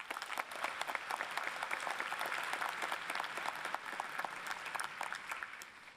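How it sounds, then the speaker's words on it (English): Graduates applauding themselves at a UCLA College commencement ceremony in Pauley Pavilion, a large crowd's sustained clapping with dense sharp claps that rise quickly and hold steady for several seconds. "let's give ourselves a round of applause for making it through a pandemic"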